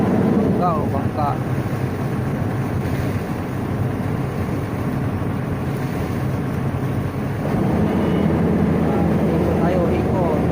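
A boat engine drones steadily out at sea, mixed with heavy wind rushing across the microphone and water noise, while someone talks over it.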